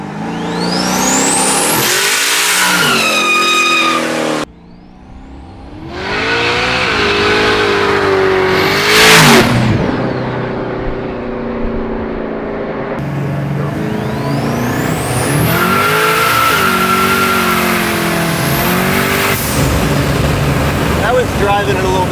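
Buick Grand National engine roaring under hard acceleration, loud and close with rising revs, a sharp drop and repeated surging pulls, while people talk excitedly over it.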